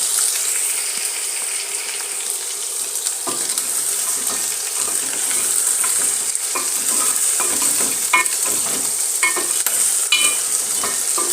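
A spoon stirs onions and coriander stems in a hot pan, steady sizzling frying with repeated scraping and clinking strokes, close and fairly loud with no talk.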